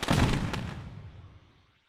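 A single firework blast in the video game LittleBigPlanet 3, a loud booming burst with crackling that rings out and fades over almost two seconds, heard alone.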